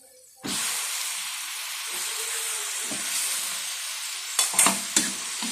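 A squid dish hisses and bubbles in a pan as it is stirred, a steady bright sizzle starting suddenly, with a few sharp spoon clacks against the pan near the end.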